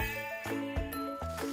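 A sheep on a grassy hill bleats in a series of loud, wavering calls, about four pulses in close succession, with no voices.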